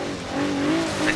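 A lifted Jeep Wrangler drifts off-road in Forza Horizon 3, its engine droning and tires squealing in a sustained, rising and falling wail, close and fairly loud with no speech.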